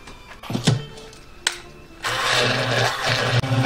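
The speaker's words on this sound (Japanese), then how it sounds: "こちらね、ミキサーにかけていきます。" A kitchen blender whirs through a mint and basil herb sauce with olive oil, salt and pepper, starting after a few clunks and knocks, then a steady loud motor drone with one brief dip.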